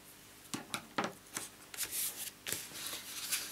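Glitter tape being cut and handled for a wedding card: several short, soft rustling and scraping strokes close by, quiet and with no talking.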